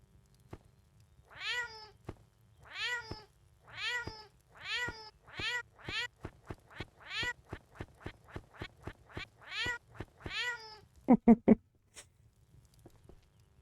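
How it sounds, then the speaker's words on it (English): A cat in the medieval survival game Crestfallen meows over and over, the same identical call repeated in a steady string of about a dozen clear, close meows, followed by a few short sharp sounds near the end. "The exact same fucking meow each and every time. No variation in the pitch or anything."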